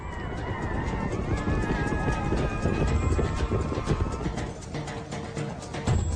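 Horses racing past in a nomadic horse race, drumming hooves, a neigh rising over the rumble, crowd noise and engines faintly mixed in the background.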